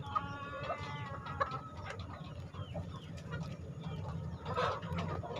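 Mother hens of a free-range village chicken flock in a small backyard breeding setup cluck softly and repeatedly, overlapping calls that rise and fall at moderate distance, with a busier burst of clucking near the end.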